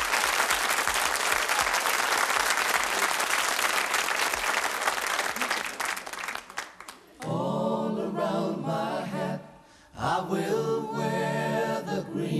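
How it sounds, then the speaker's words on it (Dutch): Audience clapping for a singer, dense and loud for about seven seconds before giving way to the opening of her folk song. "Applaus!"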